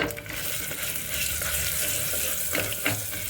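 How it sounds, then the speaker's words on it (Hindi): Onions and mutton fry in a pan for a mutton curry, giving a steady, close, loud sizzle with a few brief stirring scrapes near the end. "अनियन डाल रहे हैं अब हम इसमें, और अनियन के साथ साथ ही डाल देंगे मीट"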